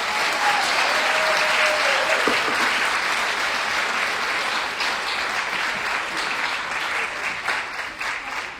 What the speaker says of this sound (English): Please give a warm applause for just one tonight, Hannah Winburn